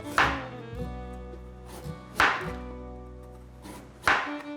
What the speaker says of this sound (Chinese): 再切个10片左右